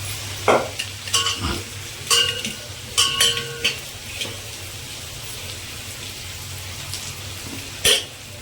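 Chopped onions for a mutton masala curry sizzle steadily in a pan while a utensil scrapes and stirs them in several short bursts, with a soft frying hiss between strokes and no talking.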